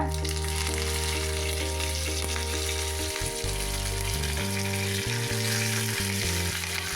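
Loud, steady sizzling of mustard seeds and urad dal frying in hot oil, a continuous dense crackle with occasional pops, close up and without any talking.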